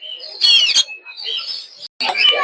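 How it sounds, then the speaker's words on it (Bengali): Lory parrots squawk in sharp, harsh bursts at a busy bird market, loud and close, with a short gap before another burst of calls. "দেখতে পাচ্ছেন সুন্দর লরি পাখি।"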